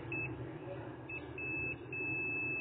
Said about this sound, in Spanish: Este pitido que escuchan es del multímetro